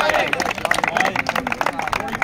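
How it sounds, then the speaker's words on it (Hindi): A crowd at a sit-in protest by selected police candidates in Haryana claps loudly and unevenly, with sharp nearby hand claps over a babble of voices. "इसके लिए तालियां भाई बोलो"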